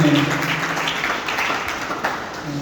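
Steady applause from an audience at a career guidance program welcomes a speaker, a dense, even wash of many hands clapping that lasts throughout.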